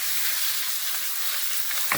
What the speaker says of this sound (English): I think the oil is got nice hot now. So let's put the 300 gram mince in it.